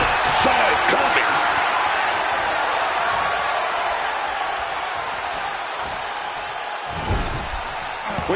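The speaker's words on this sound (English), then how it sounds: "when you can't hear yourself think because the crowd's so loud" A loud wrestling match crowd roars continuously in a large arena, a dense wall of cheering with sharp slams near the start and end.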